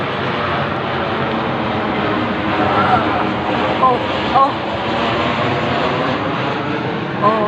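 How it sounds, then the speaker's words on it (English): An airplane passes overhead at night, a steady broad engine roar filling the whole stretch while someone talks over it. "The plane that is about to come over my head is not natural"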